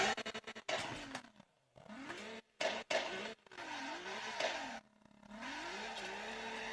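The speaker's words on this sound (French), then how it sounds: "je trouve que ça patine énormément au niveau de l'arrière-train quand on entend" A Nissan GT-R R35 drifting with its rear wheels spinning and slipping, giving repeated rising and falling tire squeals and engine revs in several bursts broken by short gaps.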